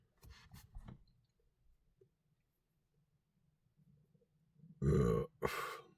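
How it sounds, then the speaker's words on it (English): A man's close, loud burp after eating a hot pepper, coming as two bursts near the end after a few soft mouth noises and near silence. "Excuse me, pepper burp."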